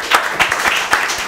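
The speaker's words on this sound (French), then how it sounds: "On applaudit encore une autre fois, s'il vous plaît, chers publics." Brief burst of audience applause following a speech at a school holiday event, with several distinct claps rising out of a continuous patter, fairly close.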